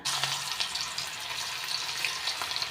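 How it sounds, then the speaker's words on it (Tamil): Marinated chicken 65 pieces frying in hot oil, a steady soft sizzle and crackle throughout, fairly quiet and without voices. "சிக்கனை பொரிச்சு எடுத்துக்கலாம்."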